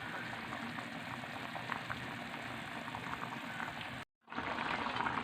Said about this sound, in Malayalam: ഇത് നല്ലോണം തിളക്കുന്നുണ്ട്.